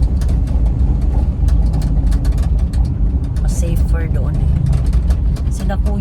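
A car cruises along a highway toward Guadalupe, its steady engine and road rumble filling the cabin while people talk over it.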